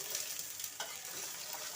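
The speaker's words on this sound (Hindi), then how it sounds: "अब इसमें हम सब्जी डाल देंगे" Mixed vegetables sizzle in hot oil with a steady, close hiss and faint crackling throughout.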